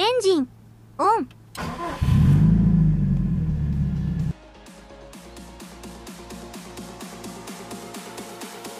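A few short beeps, then a Subaru Impreza WRX STI Spec C engine with a Kakimoto exhaust cranks and catches with a loud roar before settling into a steady, rhythmic idle.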